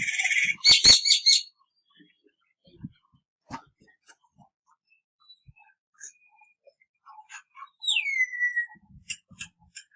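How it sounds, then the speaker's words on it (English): A myna bird calls in short bursts: a loud cluster of chattering notes, then scattered clicks and chirps, and a sharp descending whistle near the end. "MYNAH. Myna."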